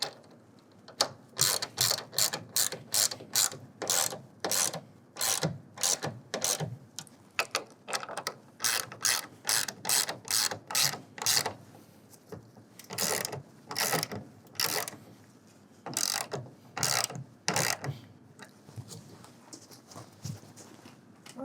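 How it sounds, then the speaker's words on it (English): A half-inch ratchet tightens the rear clamps of a TruXedo TruXport soft roll-up tonneau cover, clicking in rapid repeated bursts of close, crisp pawl clicks with short pauses between strokes. "We're going to go ahead and lock these two clamps down using a 1/2 inch wrench or ratchet and lock them down to 7 foot-pounds."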